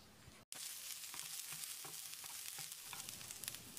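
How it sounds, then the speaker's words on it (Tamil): Small onions sautéing in a little oil in a pan, a steady close sizzle with soft crackles and occasional stirring scrapes, briefly cut silent near the start. "100 கிராம் அளவுக்கு சின்ன வெங்காயம், கொஞ்சமாக எண்ணெய் ஊற்றி வதக்கிடலாம்"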